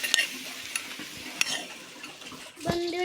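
Freshly fried fritters of taro leaves and shrimp are lifted from the pan, with soft sizzling in the background and several sharp metallic scrapes and clinks of a utensil against the pan.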